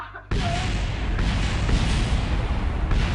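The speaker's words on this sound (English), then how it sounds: "I just hear explosions going on everywhere." Explosions in Kerbal Space Program on the planet Eve, a sudden loud booming blast followed by continuous rumbling, crackling detonations and further thuds.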